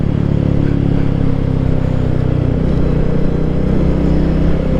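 A 2024 Royal Enfield Meteor 350 motorcycle being ridden, its single-cylinder engine giving a steady low throbbing drone mixed with road and wind rumble, loud and continuous.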